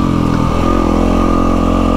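A dirt bike engine runs steadily at a low, even idle on a trail ride in the Strathbogie Ranges, close and loud throughout with a brief rev change near the start.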